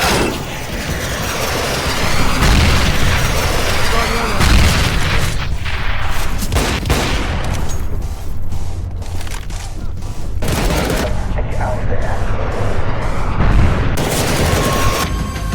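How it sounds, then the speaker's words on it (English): Counter-Strike combat with an incoming missile, a dense, loud barrage of explosions, booms and rapid gunfire that continues without a break, heavy blasts and bursts of shots overlapping from start to finish. "Incoming missile."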